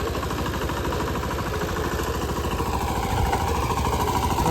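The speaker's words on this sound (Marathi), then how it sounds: "मस्त ट्रॅक्टर लावले शेत नांगर बघा" A tractor engine drones steadily while ploughing a muddy field on a farm, a constant close mid-pitched rumble with an even throbbing pulse, no voices.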